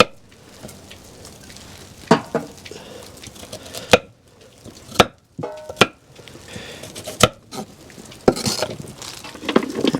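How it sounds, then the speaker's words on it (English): Carrots are chopped and diced with a handy chopper for an outdoor butternut squash stew, with sharp irregular chops and thuds standing out against a quieter background of small clicks and rustles. "Chopping and dicing, and we're going to use this size for the carrots."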